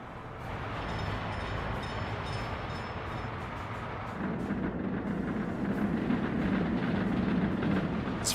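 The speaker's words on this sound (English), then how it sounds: "That's a train." A train passes through a rail-building game world, a steady broadband rumble of rolling cars that grows louder and fuller midway, continuous and alone with no talk.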